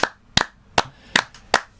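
Five separate sharp claps ring out at an uneven, spaced rhythm, close and crisp with silence between them, as fans of the Milwaukee Bucks are welcomed on a basketball show.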